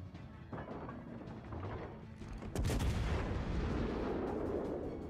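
Naval guns of the battleship Texas fire in a World of Warships: Legends battle, a heavy boom at mid-clip rolling into sustained rumbling blasts over faint background firing.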